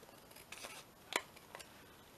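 Paper being cut out with scissors makes a few soft, quiet snips spaced apart, the sharpest one in the middle, against a faint hushed background.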